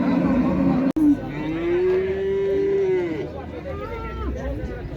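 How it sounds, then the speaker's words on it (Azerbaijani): Male calves at a livestock market in Xaçmaz give one long, sustained moo and then a fainter second call, loud and close, over a steady background of crowd murmur and talk. "Yaxşı saxlanmalı danalar,"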